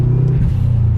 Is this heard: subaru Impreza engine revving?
yes